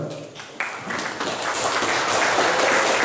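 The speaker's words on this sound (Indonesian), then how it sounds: "Salah satu tepuk tangan untuk beliau" An audience at a school talk show breaks into applause for a young psychologist, clapping swelling from sparse hands into a fuller, steady round of many people.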